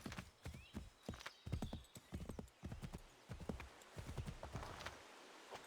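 Horse galloping in Assassin's Creed 3, its hooves thudding in a steady, fast clip-clop rhythm close by, with a brief whinny and no talk.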